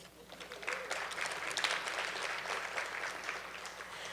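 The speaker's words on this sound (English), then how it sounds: "another round of applause for you showing up" An audience at a women's political engagement conference applauds steadily, a dense wash of clapping that swells slightly and holds for the whole stretch.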